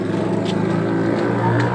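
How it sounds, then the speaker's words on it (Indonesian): A motorcycle passes on a mountain road near Mount Sumbing in Java, its engine a steady, close, loud hum that holds through the short moment. "Oh ada motor."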